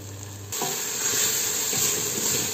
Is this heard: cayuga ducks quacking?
no